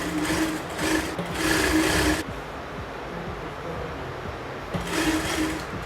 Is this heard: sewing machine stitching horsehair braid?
yes